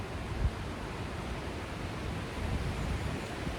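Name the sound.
strong wind outdoors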